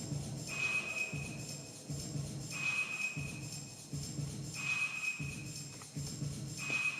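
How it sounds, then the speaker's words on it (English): A click track playing through a Focusrite Scarlett 2i4 audio interface: a faint, steady metronome tick over background noise, with a higher beep marking each bar roughly every two seconds. "You hear the click track coming out."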